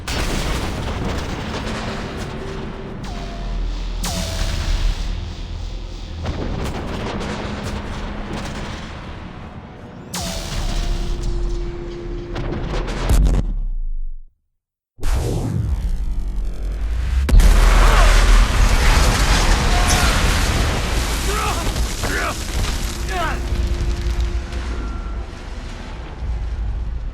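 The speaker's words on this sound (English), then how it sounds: "Even the explosions seem to blur into the background." Explosions and artillery fire rumble through a Mass Effect 3 battle on Earth, a dense, continuous roar of booms and blasts layered with game noise, briefly cutting to silence before the barrage resumes at full loudness.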